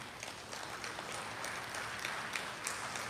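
Audience applause at a formal opening ceremony of a Caribbean agricultural investment forum, a steady wash of many hands clapping that stays even and fairly distant, with no voices over it.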